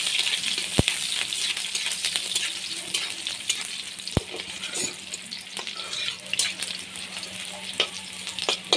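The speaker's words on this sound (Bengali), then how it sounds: "পেঁয়াজটা দিয়ে অল্প ভেজে নেব, পেঁয়াজটা দিয়ে হাতা ভেজে নেব" Chopped onion frying in hot oil in a wok, a continuous crackling sizzle with occasional sharp ladle knocks and scraping stirs, close and steady throughout without speech.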